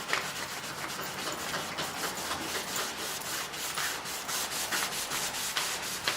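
Steady, close scrubbing of a sponge's scouring side against painted boards, rubbing paint off along a line in a continuous rasping back-and-forth rhythm with no talk.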